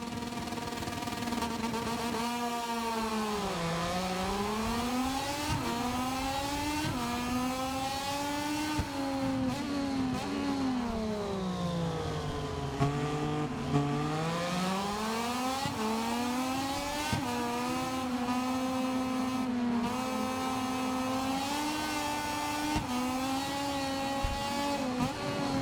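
Moto2 motorcycles race at the Circuit of the Americas in the MotoGP 24 video game, with one loud, close engine whine rising and falling steadily through gear changes and corners, and no talking.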